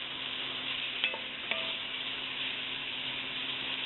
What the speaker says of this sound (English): As you can see, it's already starting to sear.